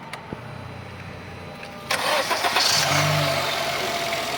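A 2018 Honda Amaze petrol engine cranks and catches, then settles into a steady idle with a light rev, heard close with no talking.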